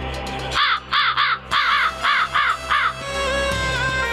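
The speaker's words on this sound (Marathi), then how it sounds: "या कावळ्यांनी अगदी वात आणलाय." Several crows caw loudly and close by in a quick series of harsh calls. Short pauses separate the bursts, and a steady background hum runs underneath.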